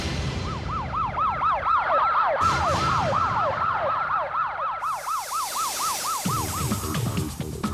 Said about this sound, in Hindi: फौरन एम्बुलेंस का इंतजाम करो